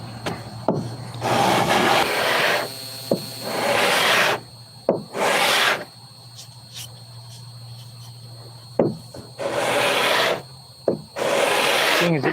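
A belt sander grinds against wood in several loud, sustained passes of a few seconds each, with short pauses between them and a steady motor hum underneath.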